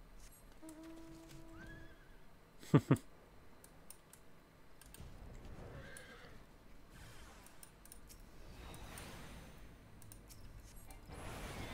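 A horse whinnies briefly amid Final Fantasy 14 game sounds, followed by a steady bed of ambient noise and soft effects.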